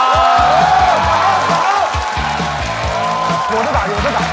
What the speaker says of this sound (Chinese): 掌声送给姜子浩